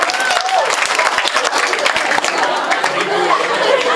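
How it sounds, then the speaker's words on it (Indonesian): Lively audience applause at a church gathering, dense and loud throughout, mixed with crowd chatter and a little laughter. "Tepuk tangan lagi."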